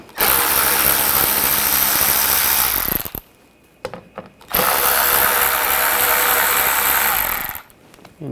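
Power ratchet with an 8mm socket backing screws out of a panel on a 2007-2013 BMW X5, two long, loud buzzing runs separated by a pause with small handling clicks, close up.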